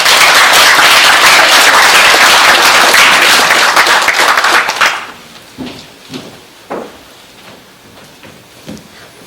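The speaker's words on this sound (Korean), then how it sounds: "나오실 때 박수로 맞아주시기 바랍니다." A hall audience applauds a speaker coming up at a commemorative event, loud and dense for about five seconds, then the clapping abruptly dies away into scattered claps and faint room sounds.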